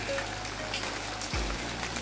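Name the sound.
rain falling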